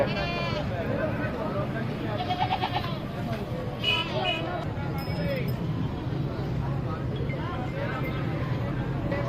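Goats bleat repeatedly at a busy Lahore livestock mandi ahead of Qurbani, several nearby calls rising over a steady hubbub of crowd chatter and people talking.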